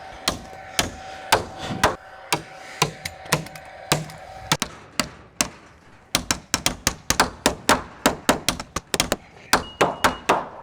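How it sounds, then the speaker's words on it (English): A hammer drives nails into a wooden roof truss with sharp, loud thwacks, first spaced apart and then in a rapid run of quick repeated strikes, close by on a building site. "I need to hammer that one in."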